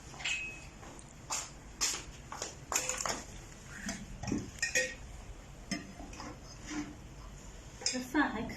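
Cooked rice is scooped from a pot into a bowl with soft scraping clinks and taps, scattered and fairly faint under people chatting in a small room.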